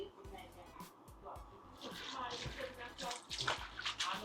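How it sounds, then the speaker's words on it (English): Water runs and sloshes over salted meat being rinsed in a bowl while preparing curried goat, a steady splashing wash that builds louder toward the end, with a voice talking over it. "we're gonna pour this off and then rinse it."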